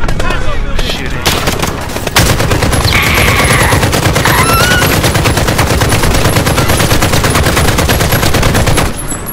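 Sustained, loud automatic gunfire in Modern Warfare (2019) pours in rapid bursts almost without pause, with a few sharper shots near the start and a faint hint of voices under the clatter.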